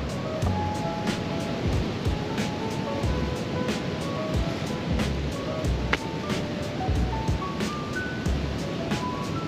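Ocean waves crash and wash continuously, with rhythmic surges of surf rolling in over a steady roar, on the coast at Casiguran, Aurora.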